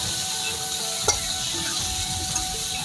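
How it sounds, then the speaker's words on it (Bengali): Ground spices are mixed into sizzling vegetables in a frying pan while cooking vegetable dal. A loud, even frying hiss runs throughout, with a couple of brief utensil clinks and no talk. "সবগুলো মশলা আমি আবার ভালোভাবে মিশিয়ে নেব"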